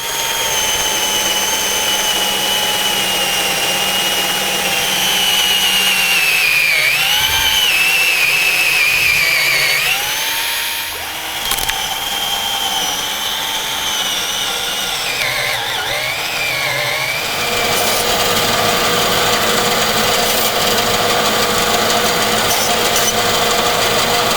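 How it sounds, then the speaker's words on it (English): A steady, loud power-tool whine runs throughout as a drill bores holes in wood, shifting pitch as it bites and eases, with a brief dip in the middle. "give me a few minutes to drill a bunch of holes and bang in some dowel"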